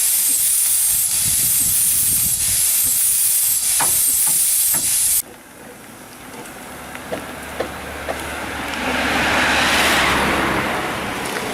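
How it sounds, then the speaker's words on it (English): A car approaches along a road beside a steam roller, the loud hiss of venting steam cutting off first before the vehicle's low rumble and tyre noise swell toward a peak near the end. "Car coming up."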